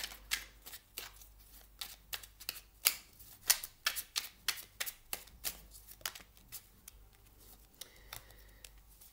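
A deck of numerology oracle cards is shuffled by hand in a quiet room, with close, crisp riffling bursts in an irregular rhythm of quick flicks.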